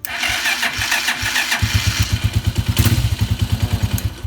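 A motorcycle with a weak battery cranks but fails to start: a dull mechanical turn-over, then a quick, even run of rhythmic starter pulses, close and fairly loud, with no engine catching.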